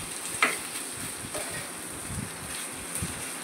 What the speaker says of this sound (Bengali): এবার আমি রান্না করে রাখা থোড়টাই ডাবের মধ্যে মিশিয়ে দিলাম।